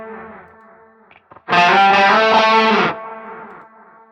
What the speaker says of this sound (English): So we've got the pitch shifter on there.